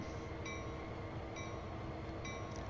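A CSX freight train rolling on the Sand Patch grade in the Train Sim World 2 game on PS4, a steady, dense rumble of running rails with faint, regular metallic rings recurring about once a second, and no speech.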